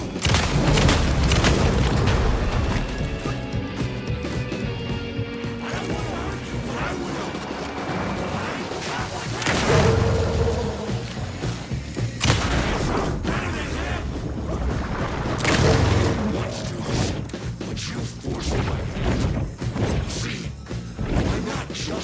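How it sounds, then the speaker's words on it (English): Explosive cards go off in the video game Alan Wake II, a dense run of loud booms and crashing impacts that repeat over about twenty seconds of game sound, with some voice under the noise. "He's shooting explosive cards at me."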